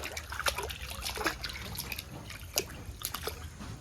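Water trickles and sloshes softly as an item is pushed under in a container while setting up a moina culture on a fish farm, with faint drips and small splashes, close and quiet.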